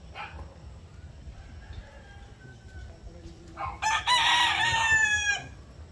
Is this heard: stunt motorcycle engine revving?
no